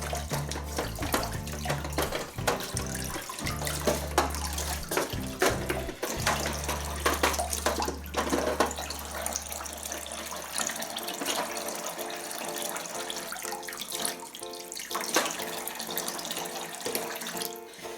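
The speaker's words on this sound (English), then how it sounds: "We'll just give it a rinse." Cold water runs steadily from a tap, rinsing a washing machine detergent drawer from a Bush Pro Action machine in a sink, a continuous close splashing rush with changing tone as the drawer moves under the stream.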